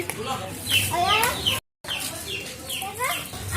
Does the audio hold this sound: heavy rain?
no